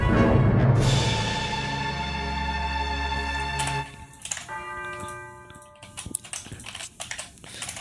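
Chime notes in music composing software ring out as sustained, bell-like tones, then give way to shorter tones mixed with rapid keyboard clicking.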